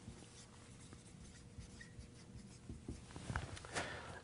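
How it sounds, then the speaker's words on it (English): Pen or pencil writing something down on paper, a steady soft scratching with brief strokes and taps, quiet and close, no voices. "So we're going to write that down real fast,"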